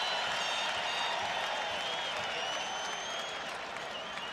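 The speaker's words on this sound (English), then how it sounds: "and the crowd reacts" Crowd at a 1986 World Series baseball game between the Boston Red Sox and New York Mets roars and cheers in a steady, dense wash of noise that holds loud and unbroken throughout.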